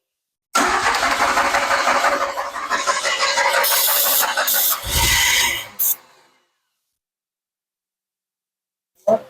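A long-dormant DeLorean being revived after 27 years cranks and catches, its engine roaring up loudly for several seconds with a rough surge before cutting off, followed by silence and a brief final clunk.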